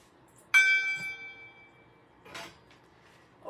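A gong struck once to open a cooking session, ringing with a bright metallic attack and long shimmering harmonic decay, followed by a faint clatter in a quiet room.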